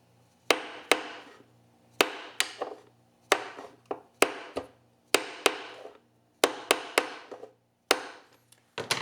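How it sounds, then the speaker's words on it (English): A mallet taps a Delrin stick against a glued guitar saddle, a series of sharp, close knocks in irregular pairs and triplets, each decaying quickly, with quiet gaps between and no talking. "use a mallet and tap it off"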